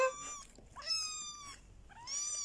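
A kitten meows three times in clear, drawn-out, high-pitched cries spaced about a second apart, close and fairly loud in a quiet room.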